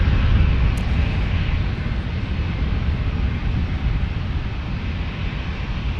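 Delta Airlines jet departing San Diego airport on a flight to JFK, a loud, steady broadband engine roar that holds throughout with no talk over it.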